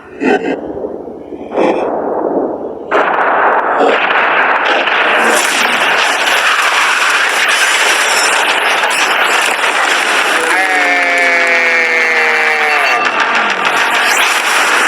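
A yacht blown up in an explosion: a loud burst and sustained roaring blast with crackling debris, followed by a falling whine, with voices and cheering mixed in.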